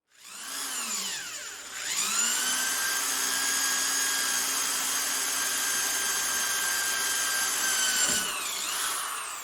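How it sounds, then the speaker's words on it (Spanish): A power drill with a 7/64 inch bit bores guide holes through wood and metal together, its motor whining up to a steady high pitch and holding for several seconds before winding down, close and alone. "Con una broca 7/64 de pulgada haré las perforaciones solamente para marcar la línea exacta de ambas piezas"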